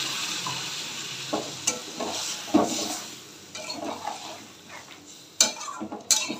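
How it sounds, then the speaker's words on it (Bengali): Spoon stirring a ground cumin, coriander, chili and turmeric paste with hilsa fish and pumpkin in a pan, giving a steady sizzle with scraping strokes and occasional sharp clinks of the spoon against the pan. "এবার এই রকমই কষিয়ে, এর থেকে আর বেশি কষাবো না"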